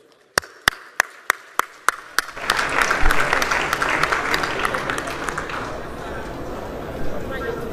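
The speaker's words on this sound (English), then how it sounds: "A round of applause, please." An audience applauds panelists taking the stage at a geopolitics forum: a few sharp separate claps first, then a dense swell of sustained clapping from a full hall, with voices murmuring beneath.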